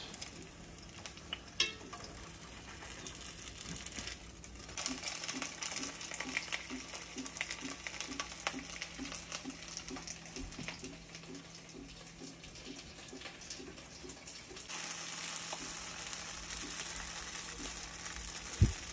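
Moose meat pancakes with onion in the batter frying one at a time in a small pan, a steady faint sizzle with soft pattering crackle throughout, no talking.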